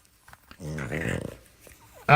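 A French Bulldog vocalizes close by in a short whiny, grumbling moan that rises and fades, followed by a quick sharp sound at the end.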